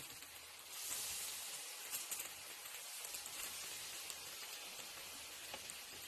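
Hot oil bubbling and sizzling steadily in a pan, ready for frying rolls, with a soft continuous crackle at low volume and no voices.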